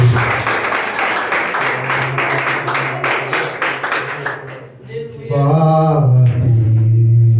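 A church congregation claps in quick rhythmic unison during a prophetic worship service, loud and close. The clapping fades out and gives way to a sustained tone and singing.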